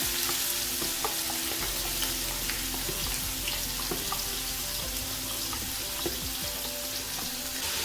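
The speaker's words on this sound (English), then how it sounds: "ಆನಿಯನ್ನ fry ಮಾಡ್ಕೊಳ್ತಾ ಇದ್ದೀವಿ" Chopped onions fry in hot oil with cumin seeds in a pan, the start of a Bombay-style mutton dum biryani: a steady, close sizzle runs throughout with occasional scrapes and stirs of a utensil.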